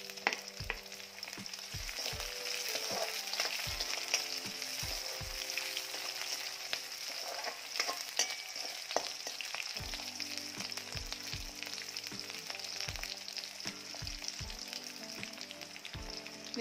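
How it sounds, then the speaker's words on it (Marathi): Green chillies frying in oil with garlic for a mixed vegetable dish: a soft, steady sizzle with irregular spatula taps and scrapes against the pan throughout, no speech. "मिरची देखील छान परतली गेली आहे."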